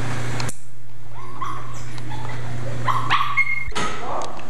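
Several dogs bark and yip in short overlapping bursts over a steady hum from a vacuum fan, some yelps high and sharp, fairly close by.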